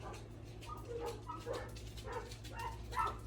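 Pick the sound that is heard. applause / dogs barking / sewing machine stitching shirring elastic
dogs barking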